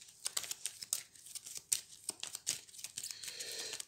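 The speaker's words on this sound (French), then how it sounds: "je refais ma main à hauteur de 5 cartes" Playing cards are drawn and handled in a solo Hero Realms card game, giving a quick run of sharp snaps and papery swishes close to the mic, with short pauses between them and no voices.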